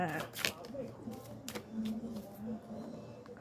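A deck of tarot cards being shuffled, with cards dropping out: a few quick riffling flutters and soft slaps close by, over a faint voice and muted room sounds.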